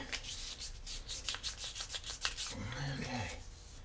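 Fine 1000 grit sandpaper rubbing over a wooden spoon, close soft rhythmic strokes about three a second, faint and without talk.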